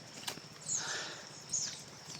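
A horse walks nearby, its hooves clip-clopping in a loose irregular rhythm, a few clearer knocks standing out over soft outdoor background noise and faint bird calls.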